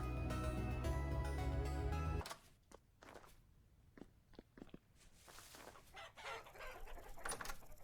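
Chickens cluck in the farming game Vintage Story: soft, scattered short clucks and pecking sounds after a burst of game music cuts off, quiet and without talk.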